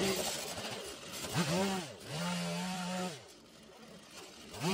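A power tool hogs a river channel out of a driftwood table top, its whining motor rising and falling in pitch as it bites into the wood in repeated passes, loud and close.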